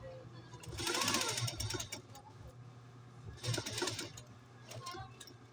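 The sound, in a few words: post-bed industrial sewing machine sewing a zipper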